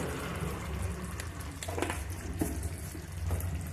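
Water poured from a tap or jug into a cooking non-vegetarian curry, a steady splashing, running pour heard up close and alone, moderately loud throughout.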